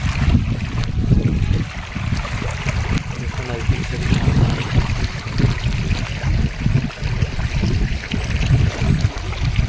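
Rainwater rushes and splashes steadily along a road during continuous rain, a noisy flow with a brief voice speaking over it.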